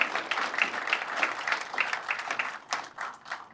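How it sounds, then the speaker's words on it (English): Applause from an audience at a university press conference, a fairly faint, steady patter of many hands clapping for a few seconds before thinning out. "let's give her a big round of applause here"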